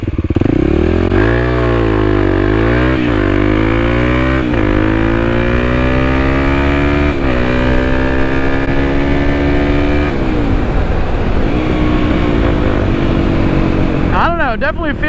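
Kawasaki KLX300 motorcycle accelerating hard in first gear, the single-cylinder engine revving up through repeated climbing pitch sweeps, loud and close, for about fifteen seconds.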